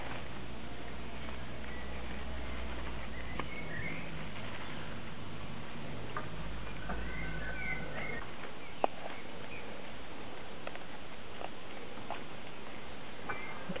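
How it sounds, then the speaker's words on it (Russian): Birds sing in a village forest, with faint scattered chirps and calls over a steady outdoor hiss and some low rumble early on. "Птиц у нас много вот в лесу"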